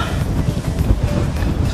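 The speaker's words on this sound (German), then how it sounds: "wir haben eine steife Brise." Stiff breeze buffeting an open-air microphone while cycling near a bascule bridge by the water, a steady loud rumble with low gusty thumps throughout, no clear talk.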